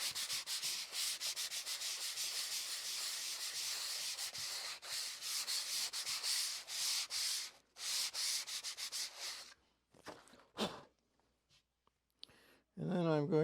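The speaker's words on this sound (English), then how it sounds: "I'm going to take a little bit of sanding here, not much," Steady rhythmic sanding strokes rub over a dried drywall patch for several seconds, close and continuous, before stopping; someone speaks briefly near the end.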